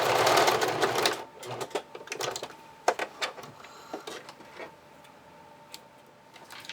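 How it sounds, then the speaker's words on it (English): Home sewing machine basting elastic to fabric while making underwear, with a loud steady stitching run at the start that gives way to scattered clicks and short handling taps. "I like to kind of just baste that together with my sewing machine"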